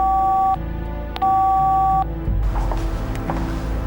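A telephone tone for a call to an unreachable number plays as two steady electronic beeps separated by a short gap, followed by a softer, noisier stretch.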